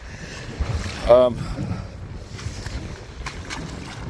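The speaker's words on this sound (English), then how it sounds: "I've just faced you right back into that wind." Wind blows hard against a microphone on seaside rocks in north Wales, a low blustery roar with gusts beneath a brief exclamation from a man, sea noise rumbling faintly behind.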